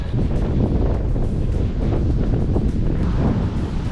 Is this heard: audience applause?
no